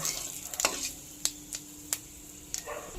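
Whole spices, including bay leaf, cloves, cinnamon and cumin, fry in hot oil for a vegetarian Kashmiri cauliflower dish, with a soft sizzle broken by a few sharp clicks of a spoon stirring the pan.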